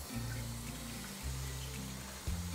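Kitchen pot filler tap running water into a cooking pot, a steady close gush whose tone shifts as the pot fills, with a few brief interruptions.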